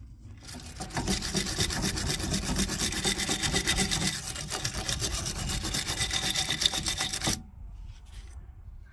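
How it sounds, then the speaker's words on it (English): A wire brush scrubs loose rust and corrosion from the rear wheel hub of a Citroen C1, Toyota Aygo or Peugeot 107. The scraping is close, fast and continuous, with rhythmic strokes for about seven seconds before it stops abruptly. "With a wire brush, clean away any loose rust or corrosion that's in the hub."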